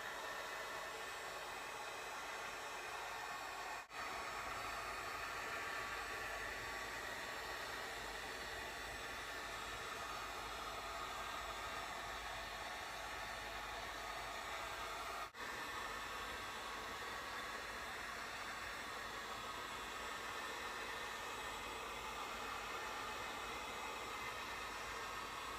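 A heat blower warms a warped skateboard deck, giving a steady, loud, broadband whoosh that runs unbroken for the whole stretch with no talking.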